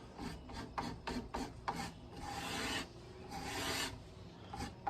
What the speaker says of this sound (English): So I have a scraper with a contoured edge, right? And you just kind of, it'll cut the wood, right? It'll smoothen it